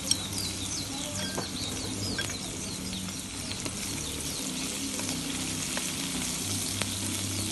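Green chillies sizzle in hot oil in a pan for chana dal, producing a continuous close crackle with scattered pops and occasional stirring scrapes, and no talking.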